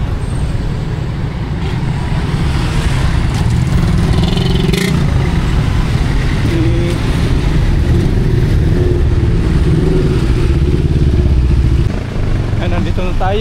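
Motorcycles and other road traffic rumble past steadily and fairly close, with engines revving and droning throughout and a voice talking over the vehicle noise.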